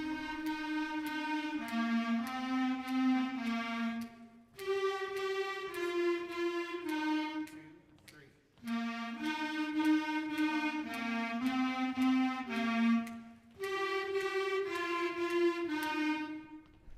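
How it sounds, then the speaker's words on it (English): A fifth-grade school band's clarinet section plays sustained notes together in short phrases separated by brief pauses, the tones bright and steady at moderate volume. "Here's what our clarinets sound like"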